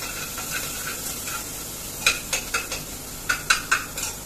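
Green chillies stirred in a pan for sabut masoor dal, giving a soft sizzle with light scraping strokes that grow into several distinct stirs in the second half, close and alone.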